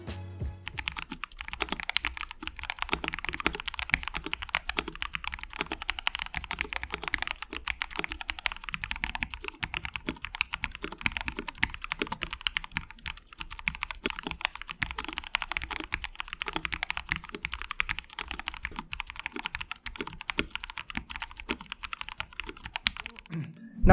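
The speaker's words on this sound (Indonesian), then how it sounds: "dari segi suaranya juga ini cukup muted, maka dari itu gue coba untuk lepas case foam dan hasilnya ternyata seperti ini" Rapid, steady typing on a 65% mechanical keyboard with its case foam removed: dense, continuous clacking keystrokes, close and clear, with no talking.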